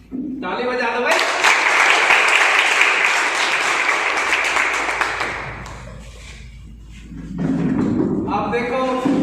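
Audience applause at a special-education coaching institute's selection celebration: a loud, dense burst of clapping lasting about five seconds, with a voice speaking just before and after it.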